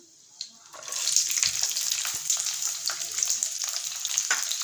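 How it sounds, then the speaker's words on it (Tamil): Two medium sliced big onions and about ten whole small onions fry in a pan for Chettinad chicken gravy, a bright steady sizzle that swells up after a quiet start, with occasional stirring clicks, close and alone. "வெங்காயம் கொஞ்சம் நல்லா வதங்கி வர வரைக்கும் வதக்கி விட்டுறலாம்."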